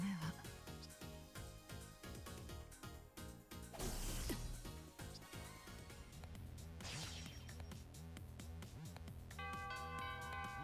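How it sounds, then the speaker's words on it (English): A doorbell chimes in the video game Fate/Extella: The Umbral Star. The bright tonal ring comes in near the end, faint and layered over busy game music and effects. "even Nero has the same doorbell"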